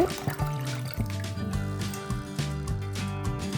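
Water poured into a pot of rinsed rice to soak it for ragi idli batter, a steady trickling and splashing flow running continuously under a tonal background.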